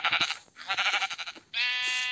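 Sheep in the Minecraft video game bleat three times in quick succession, with clear, close, wavering calls, the last held steadier and a little longer.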